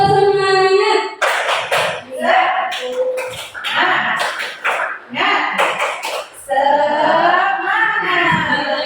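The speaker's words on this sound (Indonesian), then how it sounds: "Tepuk semangat ya, biar tetap semangat." A school group performs rhythmic cheer claps in Indonesia, short bursts of clapping in patterned beats that alternate with loud chanting voices leading the cheer.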